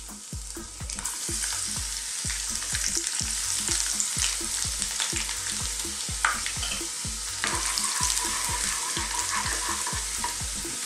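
Ginger and garlic fry in hot oil in a wok for a Chinese beef and green beans stir fry, a constant close sizzle broken by regular rhythmic scraping strokes of stirring, with no talking.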